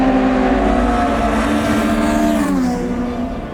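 A Honda FN2 Type R with a stock exhaust revs hard toward its 9,000 RPM red line, the engine note climbing steadily in pitch as it accelerates, loud and close throughout.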